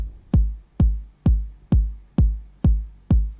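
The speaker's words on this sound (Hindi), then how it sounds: "ये एक अकेली किक बज रही है" A single kick drum sample in FL Studio thumps seven times at an even, steady tempo, each hit punchy and deep with a quick decay, with nothing else playing.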